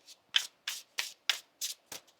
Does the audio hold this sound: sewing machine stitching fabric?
no